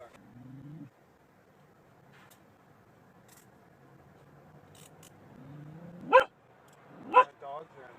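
Several dogs bark and yelp from inside a car during a police traffic stop, a few sharp barks near the end after long stretches of quiet whimpering, with voices talking.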